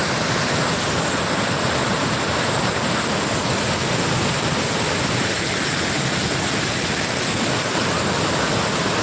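Tirparappu Falls in Kanyakumari, India, roars in a steady, dense rush of water that stays loud and unchanging throughout, with no voices.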